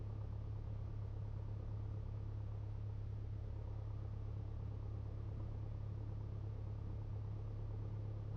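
A small airplane taxiing along a runway taxiway at about 20 knots, its engine a steady, loud, continuous drone with a low hum throughout and no talk.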